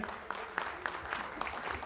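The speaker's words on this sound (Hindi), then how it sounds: "जोरदार तालियां उपेंद्र सिंह जी के लिए" Applause breaks out from an audience at a talent-show event in the UAE, steady broadband clapping with a few sharper bursts, fairly close and sustained through the short stretch.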